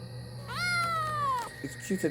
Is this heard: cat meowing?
yes